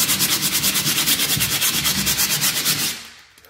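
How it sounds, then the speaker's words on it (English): An 80-grit sandpaper scrubs across an interior wall where wallpaper border was removed, a close, raspy back-and-forth rubbing in quick regular strokes that stops near the end. "if I don't use this sandpaper and sand that smooth"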